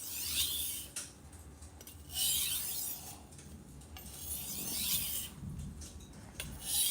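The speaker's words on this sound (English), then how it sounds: "here we're doing some stropping motions." A blade is stropped after sharpening, giving repeated soft rasping strokes in bursts, close and moderately loud, with faint light clinks between the passes and no voices.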